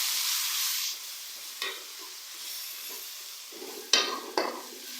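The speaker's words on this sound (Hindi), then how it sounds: "अब मैं इसमें ऐड करूंगी अदरक लहसुन का पेस्ट।" Ginger garlic paste stirred into spices frying in a pan for dhaba-style chana dal, a hiss that drops away into quieter sizzling broken by a few sharp spoon scrapes and knocks against the pan, with nobody talking.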